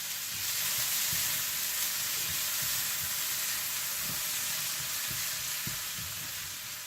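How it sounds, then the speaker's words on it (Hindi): Onions with a pinch of salt frying in melted butter give a steady, dense sizzling hiss throughout, close and even, with faint low stirring thumps underneath. "मक्खन गर्म हो जाए तो आप इसमें प्याज डाल दें और साथ ही इसमें नमक थोड़ा सा डाल दें और इन्हें अच्छी तरह से कैरेमलाइज कर लें"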